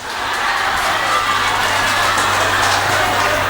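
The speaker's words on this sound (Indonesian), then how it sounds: "tepuk tangan untuk susu." Crowd at a lively religious gathering cheering and shouting in a dense, loud, continuous roar, with children's voices mixed in and faint clapping underneath, steady throughout.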